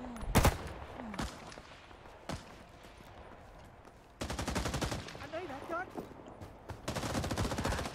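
Gunfire in the video game Rising Storm 2, with single loud shots early, then sustained bursts of rapid automatic fire and whistling, crackling battle effects.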